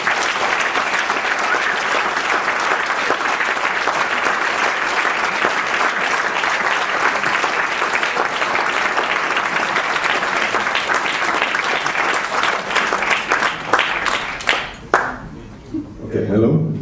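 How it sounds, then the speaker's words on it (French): Festival audience at a film screening applauding a director and his team, sustained loud clapping from a large crowd that thins and breaks apart near the end, with a voice briefly audible. "je vous demande d'applaudir et d'accueillir Andreas Marschall et une partie de son équipe"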